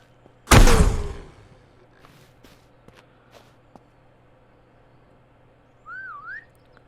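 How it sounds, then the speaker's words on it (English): A player whistles a short rising and falling tune in the zombie survival game Surroundead, near and clear in a quiet bunker, after a loud thud and faint footsteps. "Whistle, see if we can draw."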